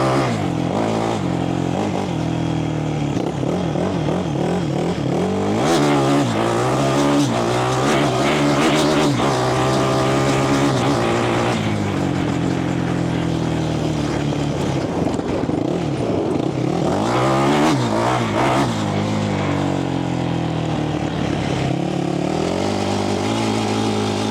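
A rebuilt Yamaha YFZ 450 ATV engine revs hard while being ridden, loud and close, its pitch climbing and falling through repeated throttle pulls and gear changes over a steady rough drone.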